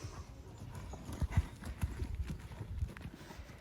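Horse hooves clip-clop in a dressage canter during a novice test, a steady, fairly close rhythm of muffled thuds with a few louder strikes over faint background noise.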